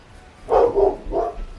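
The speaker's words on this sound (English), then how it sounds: "sorry, that's my dog." A dog barks a few times close by in a quiet room where Santa Claus sewing is underway, giving three quick woofs in a short cluster.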